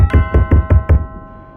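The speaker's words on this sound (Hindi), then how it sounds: "जोर जोर से किसी के दरवाजे को खटखटाने की आवाज़" Five loud, heavy knocks on a door in an even, quick rhythm, close and resonant, fading into a short ringing tail, used as a horror story sound effect.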